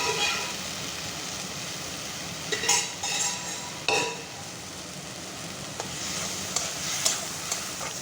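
Soft continuous sizzling of chana dal lentils frying with drumstick leaves in a pan, with occasional scrapes and clinks of a spoon stirring.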